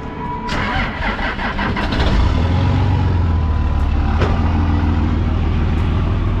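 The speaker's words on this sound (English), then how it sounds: "Straight pipe diesel cold start." A straight-piped Cummins diesel truck engine cold-starts with a cranking burst, then catches into a loud, steady low rumble that holds close and unbroken to the end.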